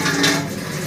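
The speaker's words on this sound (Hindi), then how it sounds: "अब फाइनली अब इसमें जा रहा है पानी, जितना आपको चाहिए पानी डालते हैं ग्रेवी के लिए" Water splashes and pours into a pot of mutton gravy in a short, close, fairly loud burst.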